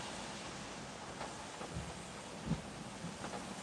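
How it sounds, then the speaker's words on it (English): Steady rain hisses across an amusement park, a dense wash of noise with a couple of soft low thumps that could be distant thunder, and no talk heard. "I think this spoiled everybody's night, this rain"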